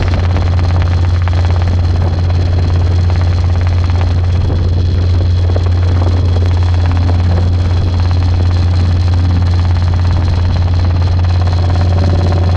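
A Robinson R22 helicopter in flight near Hampton Roads airport, heard from inside the cabin as a loud, constant low engine and rotor drone with no pauses.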